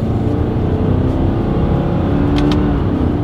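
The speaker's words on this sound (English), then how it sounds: "let's see how quickly we can get our new Subaru Forester here up to speed" A 2023 Subaru Forester accelerates up to speed using paddle shifters with simulated shifting; a loud, steady engine drone and road rumble fill the whole stretch.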